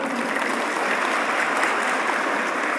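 A crowd at a large prayer gathering in Masjid Agung Cianjur, a grand mosque, breaks into applause: a dense, steady wash of many hands clapping at once, sustained and fairly loud for the whole stretch.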